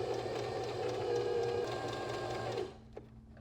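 A sewing machine hems shirt fabric with a close, steady whirring drone that runs evenly for a couple of seconds and then stops.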